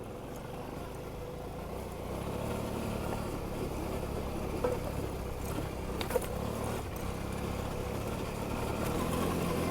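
Suzuki V-Strom 650 motorcycle on a hill climb, its rear wheel spinning without traction: a steady mid-pitched engine drone holds throughout, with a couple of brief louder bursts and no voices.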